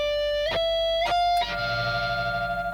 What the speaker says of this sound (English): that ringing sound is not what we want